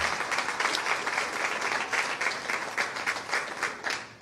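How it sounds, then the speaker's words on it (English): Steady applause from a sizable audience at a Cleveland Metropolitan School District leadership announcement, dense clapping that keeps going at a fairly even level for a few seconds. "Let's give them a round of applause if we can."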